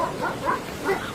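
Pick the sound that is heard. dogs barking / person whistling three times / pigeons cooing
dogs barking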